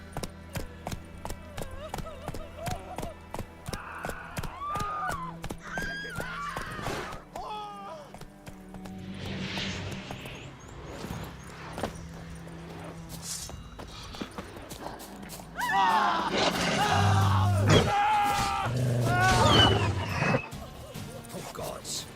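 Roach, a horse in the video game The Witcher 3, gallops with a steady drum of hoofbeats under shouting voices and game music, louder toward the end.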